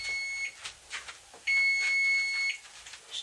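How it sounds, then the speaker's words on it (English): A kitchen oven timer sounding while muffins bake, with a short electronic beep followed by a longer sustained tone of about a second, fairly clear over soft background clatter. "Just turn the timer off so it doesn't just keep going on."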